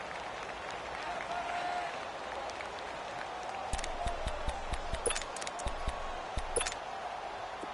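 A football stadium crowd cheers and applauds during a big third-down moment, with a broad, steady roar that swells into sharper claps and whoops partway through.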